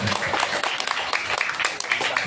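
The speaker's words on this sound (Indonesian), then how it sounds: "Tepuk tangan untuk" Brief burst of audience clapping at a Quran memorization graduation, a quick uneven patter of hands throughout.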